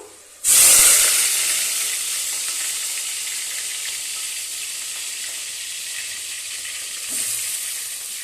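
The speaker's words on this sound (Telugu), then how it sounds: "ఇలా ఉంది కదా ఒత్తిదే వేయించుతానండి మసాలాలు అవన్నీ వేసుకొని అయితే వేయించుకుంటాను" Mutton sizzles loudly in hot oil with spices, a steady dense frying hiss that starts abruptly and holds through, with a brief flare of louder sizzling near the end; no voices.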